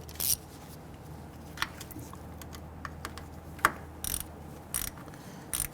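A ratchet snugging down a nut on the rear ABS sensor bracket of a 2006-2012 Toyota RAV4, giving faint scattered clicks and a few brief louder pawl bursts over a low background hum, close, with no talking.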